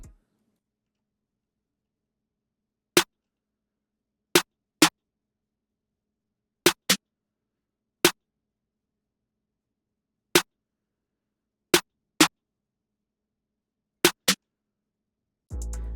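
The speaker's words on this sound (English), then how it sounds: "Then I added these 3 accent snares." Accent snares in an FL Studio beat: crisp, very short snare hits spaced irregularly across near-silence, some in close pairs. They play alone, and a louder sound enters right at the end.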